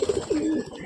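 A Giribaj pigeon coos close by in a short burst of two or three throaty, rolling notes, loud and alone.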